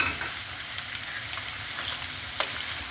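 Meat for sac kavurma fries in hot fat, giving a dense, steady close-up sizzle with faint spattering crackles and one sharper pop near the end, no voices.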